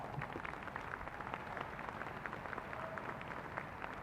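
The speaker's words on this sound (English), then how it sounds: "Let's welcome her with a big TCC applause." Audience applause fills a Tarrant County College commencement hall, a steady dense wash of many hands clapping at a moderate, somewhat distant level with no voices standing out.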